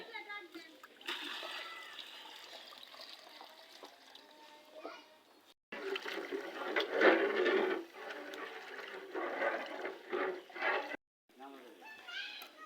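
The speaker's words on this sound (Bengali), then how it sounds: "পানি দেওয়া হচ্ছে" Water splashes and pours in bursts for cooking at an outdoor Pohela Boishakh picnic, with people talking throughout and a brief pause midway.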